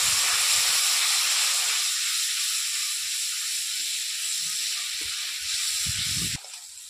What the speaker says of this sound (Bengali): মশলাটা ভাজার জন্য একটু জল দিয়ে দিই, তাহলে মশলাটা ছিঁড়ে যাবে না।